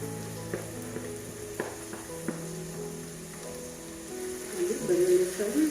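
Garlic frying in hot oil sizzles in a pan, a soft, steady crackle that swells louder and busier toward the end.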